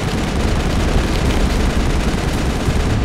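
Gunfire outside in the video game Mass Effect, a dense, loud, continuous barrage of shots and booms with no pauses.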